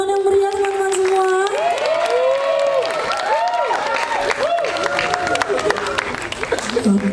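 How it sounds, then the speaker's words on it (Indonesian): Audience at a campus festival stage cheering and applauding after a theatre troupe's performance, sustained clapping with whoops and high voices shouting over it, crowd chatter throughout. "Beri tepuk tangan yang meriah teman-teman semua."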